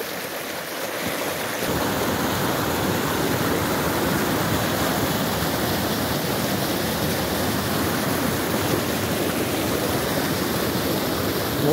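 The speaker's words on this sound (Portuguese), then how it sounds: "A água tem muita força aqui." Powerful rushing water roars steadily and loudly close by in a channel swollen by rain, a dense continuous churn that swells in after a quieter opening moment.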